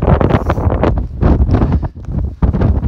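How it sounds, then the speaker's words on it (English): Loud, blustery wind buffets the microphone in heavy rumbling gusts, with brief dips before roaring back. "I've suddenly hit a bit of a windstorm"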